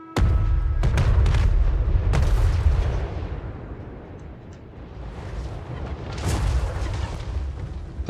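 Cannons fire an artillery volley in a Total War: Warhammer 3 battle, several sharp booms in quick succession followed by long rumbling roar and another swelling blast, loud and close.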